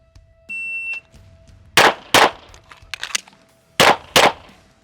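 Laugo Alien pistol fired in two pairs of sharp, loud shots with a pause between for a reload, each pair about a third of a second apart, preceded by a brief electronic beep.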